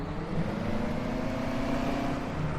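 The engine of a Big Bud tractor in Farming Simulator 17 drones in a steady, low rumble with a faint tonal hum, holding an even loudness throughout.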